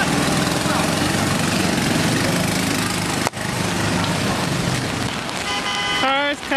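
Busy street traffic in Xi'an, China: a dense, continuous roar of cars and motorcycles close by, with car horns tooting near the end and people talking over the din.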